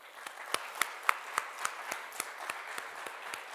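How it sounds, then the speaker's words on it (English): Small audience clapping for panelists at a student government executive candidate forum, a thin round of individual claps that sounds like only a few people, fairly faint and uneven in rhythm. "I just want to give another round of applause to our panelists"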